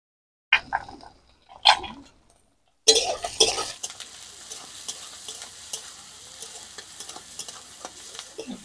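Prawns sauté with onion in a pan: a few separate clinks of a utensil come first, then a sudden loud sizzle settles into a steady frying hiss with occasional stirring scrapes.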